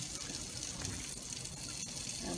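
Juices from Cornish hens are poured out of a bowl and drained off, a steady close gush of liquid running throughout without a break.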